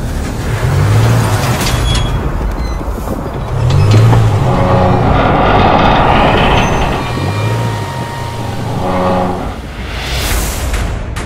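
A standard Land Rover Discovery Sport, fitted only with casters to keep it on a rail, tows a load along the track. Its engine drones loudly and steadily, with a low rhythmic rumble that rises and falls.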